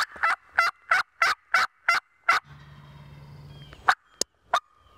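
A wild turkey gobbles repeatedly across a field during a hunt, a rapid series of loud, close-sounding gobbling bursts followed by a stretch of low rumbling background noise, then a few more sharp, scattered calls.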